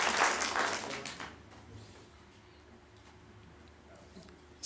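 Applause in a Board of Education meeting room: a short patch of clapping at the start that quickly fades, leaving a quiet room with faint scattered noises.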